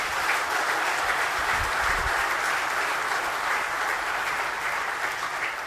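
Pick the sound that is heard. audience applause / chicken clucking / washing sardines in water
audience applause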